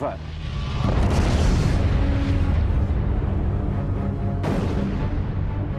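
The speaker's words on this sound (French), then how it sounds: "La supernova explose en émettant des quantités d'énergie" A supernova explosion sound effect plays as a deep, loud, roaring rumble that swells and sustains throughout, with a sharp fresh burst near the end and a voice briefly heard at the start.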